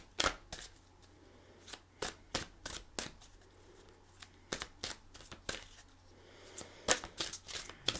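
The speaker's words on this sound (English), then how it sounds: "Listen to the sound of the shuffle." Tarot cards being shuffled by hand, a steady run of soft, crisp riffling snaps and slides close to the microphone in a quiet room.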